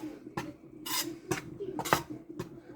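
Flour dry-roasting in a pan for puttu over low heat, stirred so it does not scorch: a handful of short scraping strokes of a utensil against the pan, close and fairly quiet, with pauses between them and no talking.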